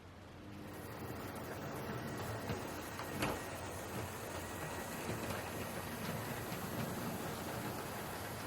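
Dapol Class 22 Baby Warship model diesel locomotive trundling over track points: a steady, fairly quiet whirring rumble of wheels on rail with small clicks as it crosses, no voices.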